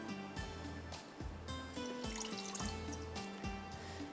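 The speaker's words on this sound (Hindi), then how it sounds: "थोड़ा सा डालेंगे पानी।" Water is poured into a pan for cooking mince, a faint trickling and dribbling liquid sound with uneven splashes running continuously over a few seconds.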